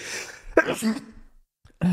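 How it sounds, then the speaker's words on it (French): A single sharp sneeze bursts out after a short intake of breath, close and loud, followed by a brief pause and another vocal sound. "Attendez, je vais éternuer."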